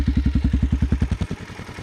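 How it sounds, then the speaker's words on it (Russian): A Forte FT200GY motorcycle with an aftermarket exhaust idles with a deep, bassy, steady thumping pulse, then the beat loosens and fades near the end. "За счет того, что установлен нестандартный глушитель, звук намного приятнее и более басистый"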